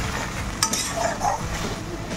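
Spices being stirred and fried in a pan for raw banana kofta curry, a steady low sizzle with scraping of a spoon and a couple of faint metallic clinks, no talking.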